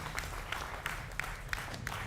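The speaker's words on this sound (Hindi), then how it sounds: "जोरदार तालियां तमाम मेहमानों के लिए।" A television debate studio audience claps for the guests, with evenly spaced, rhythmic beats over a low, steady tone.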